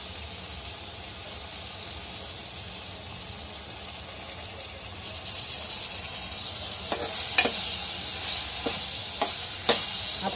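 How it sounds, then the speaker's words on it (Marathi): Washed rice is stir-roasted in oil in a pan, a soft steady sizzle under a low background hum, with scattered sharp scraping clicks of a spoon against the pan growing more frequent toward the end. "धुवून घेतलेले हे तांदूळ माझे नेहमीच्या जेवणातले। छान परतून घ्यायचे आपल्याला।"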